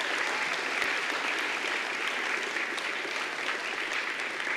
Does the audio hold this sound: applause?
yes